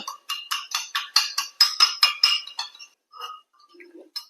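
Milk, about 50 ml, whisked briskly in a glass to a froth: a quick run of bright, rhythmic clinking strokes of the whisk against the glass, close and steady, then slowing to a few scattered taps.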